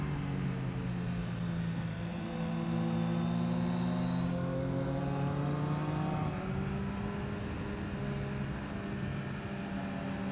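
A motorcycle on a race track at New Jersey Motorsports Park, engine droning loud and steady after a downshift to second gear, its pitch rising and falling as it accelerates.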